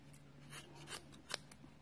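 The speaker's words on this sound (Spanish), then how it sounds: "pues seguimos cortando" Scissors trim wool yarn on a small pompom, giving several quick, close snips spaced unevenly over a quiet background.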